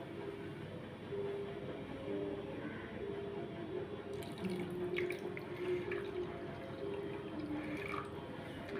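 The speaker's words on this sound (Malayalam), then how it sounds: "കുറച്ച് വെള്ളം കൂടി ഇതിലേക്ക് ഒഴിച്ചു കൊടുക്കുകയാണ്." Water from a rinsed mixer jar pours into a pan of Kerala-style netholi (anchovy) fish curry, making a steady, continuous splashing wash that runs for several seconds without talk.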